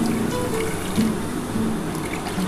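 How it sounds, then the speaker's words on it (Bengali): Water poured into a wok (kadai), a soft steady trickling and filling sound, close and fairly quiet, without talk. "কড়ার মধ্যে আমি জল দিয়ে দিচ্ছি"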